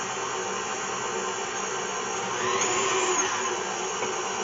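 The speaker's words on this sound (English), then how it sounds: "on low speed, and slowly, gradually work these egg yolks into the mixture" Electric mixer whirring steadily on low speed while egg yolks are worked into a German chocolate cake batter, a loud continuous motor drone up close with a slight swell midway and no speech.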